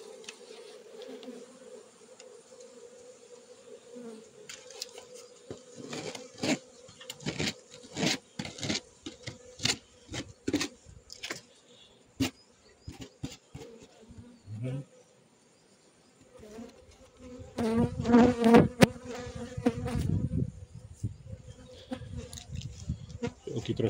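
Honeybees drone around an opened hive, a low steady buzz under sharp clicks and scrapes of frames being handled, swelling louder near the end.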